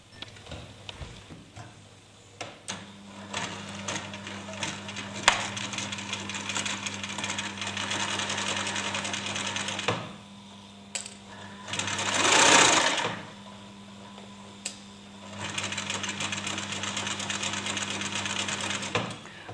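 A sewing machine stitches a dart in fabric, its loud, close, steady hum and needle chatter running in long bursts, with two brief stops and a short backstitching stretch between them.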